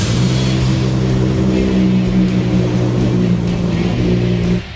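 A loud 800-horsepower Nissan Skyline GT-R R33 engine on its first start idles roughly with deep, lumpy rumbling and occasional throttle blips, close by and continuous until it drops off at the end.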